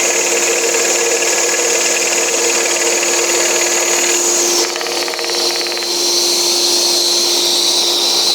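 A power saw whines steadily as it cuts feather lines into a piece of timber, a loud continuous tone that dips and shifts in pitch partway through as the blade works the wood.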